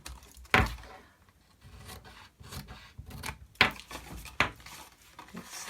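Scissors or a blade trims card flaps on a gift box, producing a few sharp scraping snips and rubbing sounds, close and isolated, with quiet gaps between strokes.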